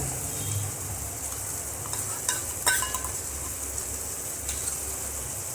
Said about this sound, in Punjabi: ਮਿਕਸ ਕਰ ਦਵਾਂਗੇ ਤੜਕੇ ਦੇ ਵਿੱਚ 2 ਮਿੰਟ ਵਾਸਤੇ ਆਪਾਂ ਮਲਾਈ ਪਾ ਕੇ ਤੜਕੇ ਨੂੰ ਪਕਾ ਲਵਾਂਗੇ